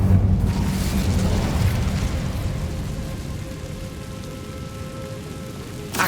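A fire spell cast in the Hogwarts Legacy video game bursts out in a loud whooshing roar that starts strong and slowly tapers over several seconds, with a low rumbling crackle and no voices.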